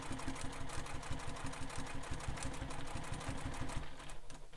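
A sewing machine backstitches across the top of a sling pack, its needle hammering in a fast, even rhythm that runs without a break and stops near the end, fairly quiet.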